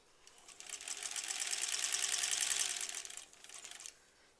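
A sewing machine stitches granny squares together for a quilt, one continuous rapid whirring run of about three seconds, close and moderately loud, then slowing and stopping.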